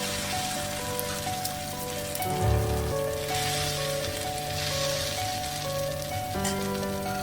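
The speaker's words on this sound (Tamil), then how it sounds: "இப்போ நம்ம தோசைக்கல்ல வறுத்து எடுத்துக்கலாம்" Millet adai dosa batter sizzling on a hot dosa griddle, a steady crackling spatter like rain on a surface, with a brief louder clank partway through, close and moderately quiet.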